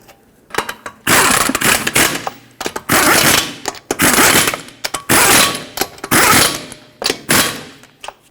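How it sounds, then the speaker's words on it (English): An impact or power tool runs lug nuts onto the wheel of a 2006-2010 Hyundai Sonata during a front brake job, in loud repeated whirring bursts of about a second each with short pauses between them. "And now start in all 5 of your lug nuts."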